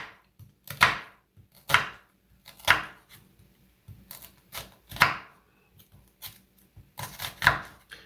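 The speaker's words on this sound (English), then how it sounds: "just turn your knife and start chopping this way" A knife chops through onion on a cutting board in single, evenly spaced strokes, about one per second, close up with no voices.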